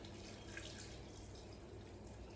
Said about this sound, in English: And then we add the water. 2 cups of water.